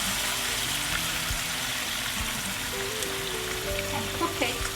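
Lamb pasanda cooking on high heat in a kadahi, a steady close sizzle with faint crackles and a low background hum, no speech.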